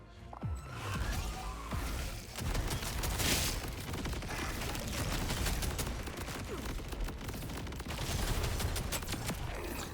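Rapid, dense gunfire from an Order assault rifle switched to SMG mode in the video game Borderlands 4, loud and sustained for several seconds with mechanical clatter and impacts, no talk.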